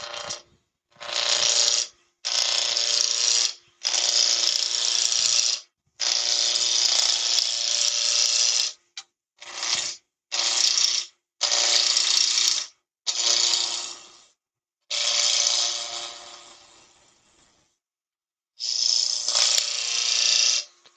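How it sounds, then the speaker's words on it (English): A wood lathe running at around 1900 RPM with a pine workpiece gives a steady, humming whine that starts and stops in repeated bursts of varying length. It is loud and close, with no talk. "start lathe up, stand to one side, get around about 1900 RPM"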